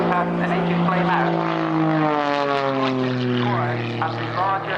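A jet-powered Pitts aerobatic biplane performs low-speed hovering manoeuvres at an air show, its engine a loud, droning roar with shifting pitch that rises and falls throughout.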